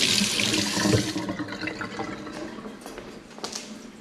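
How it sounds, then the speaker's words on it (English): A kitchen knife rinsed under a running tap, water splashing loudly at first and then settling into a softer stream with a few trickling drips. "let us wash"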